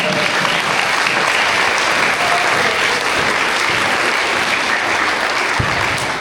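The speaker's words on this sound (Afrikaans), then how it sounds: "Ons klap weer vir al die maats lekker hande." An audience in a school hall at a Grade 1 to 3 assembly claps loudly and steadily, a dense unbroken wash of hand claps filling the whole stretch without speech.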